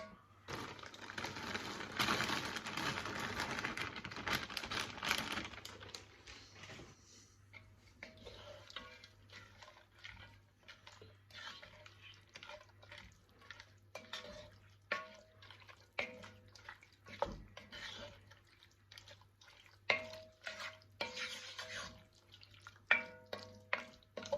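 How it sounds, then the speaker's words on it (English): Corn-based vegan mince tipped into a hot pan of cooked mushrooms for chilli: a burst of sizzling and rustling at first, settling into quieter crackles and occasional scraping clicks. "So I'm going to add the mince."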